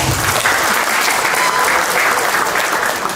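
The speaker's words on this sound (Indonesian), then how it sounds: "Tepuk tangan dulu dong." A crowd applauds loudly and steadily at a premium housing launch event in Probolinggo, a dense, continuous wash of clapping with no pauses.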